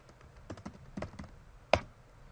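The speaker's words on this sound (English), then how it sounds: "you can see that I can automatically start typing in bullets" Light taps on a computer keyboard come as a few scattered, close keystrokes, ending with one sharper, louder press.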